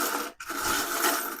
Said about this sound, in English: I'm going to drop them in this little dish